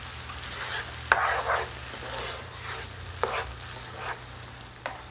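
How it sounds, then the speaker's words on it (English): Mushroom and leek risotto rice simmers with wine in a pan, giving a soft steady sizzle, and a spoon scrapes through it in a few quiet stirring strokes. "you're going to cook this for about 1 or 2 minutes, and just until the rice has absorbed most of the wine"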